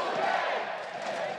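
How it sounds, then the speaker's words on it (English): A large arena crowd at the LCS summer finals cheers for H2K, a dense sustained roar of voices heard briefly from a distance. "They're still cheering for H2K though"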